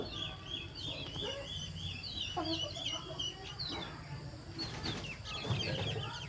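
Chickens cluck and chirp in a busy yard where a chick is pecking at ducks, with repeated high calls and some low clucking and scuffling, moderately faint and with no clear speech.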